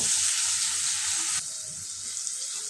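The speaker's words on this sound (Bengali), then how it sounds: "পেঁয়াজটা আমি হালকা করে ভেজে নেব" Onion frying lightly in a pan gives a steady, bright sizzle that softens slightly halfway through, with no talking.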